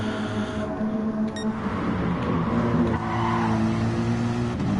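Mercedes GT3 race car engine at Brands Hatch in a racing video game, a steady loud droning whine with shifting harmonics throughout, slightly rising in intensity toward the end, no talk.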